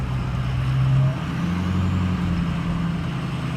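A Ford 6.0 Powerstroke diesel truck engine runs with a steady, low, even rumble, heard up close and alone.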